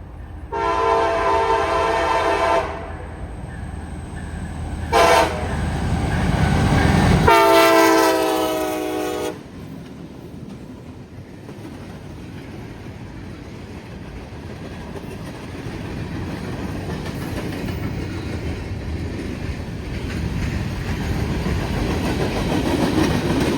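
A train sounds its horn in several loud blasts while rolling nearby, then its rumbling, clattering passage continues steadily without any voices.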